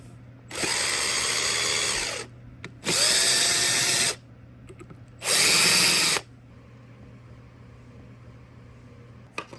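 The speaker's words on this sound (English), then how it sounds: "Now take the motor and remove these 3 screws." A power drill backs screws out of a ceiling fan motor during a new fan install, with three loud whirring bursts of about one and a half seconds each, separated by short pauses, then a quiet tail.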